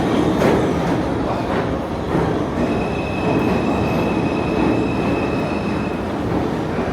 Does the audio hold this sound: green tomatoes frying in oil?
no